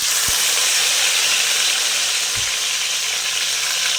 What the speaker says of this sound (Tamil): இப்போ நம்ம எண்ணெய் காஞ்சிருச்சு, கருவேப்பிலையை போட்டுக்கலாம்.